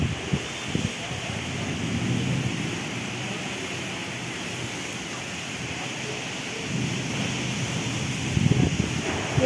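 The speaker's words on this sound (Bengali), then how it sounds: "ঝড়ে এত মিষ্টি হাওয়া, বাইরেটা এত সুন্দর লাগছে।" Wind from a Kalbaishakhi storm blowing outdoors in the afternoon before rain, a continuous rushing roar with gusting swells and microphone buffeting, loud throughout with no talk.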